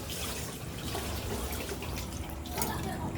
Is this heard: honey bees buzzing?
no